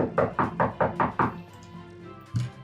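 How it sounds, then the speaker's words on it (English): A run of six quick knocks on a door, loud and close in an even rhythm, followed after a pause by a single duller thump. "And you hear a knock at the door."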